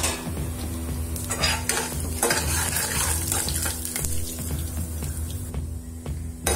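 Continuous sizzling of dried red chillies and cumin seeds frying in hot oil, with occasional stirring scrapes and clinks of a utensil against the pan, close and steady.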